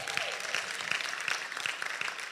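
Sustained applause from a summit audience at an African hospitality conference, a dense steady clatter of many hands clapping at moderate level throughout, with a brief faint voice at the start.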